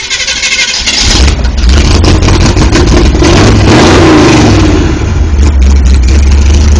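A 1970 Chevrolet CST engine cranks briefly, catches and roars to life, revving loudly and then settling into a rough, steady idle close by.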